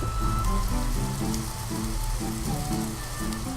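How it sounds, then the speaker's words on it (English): Summer rain on a day in Southern California, heard through an open window as a steady, dense hiss of drops on surfaces, fairly loud and continuous with no talking. "It's raining on a summer day over here!"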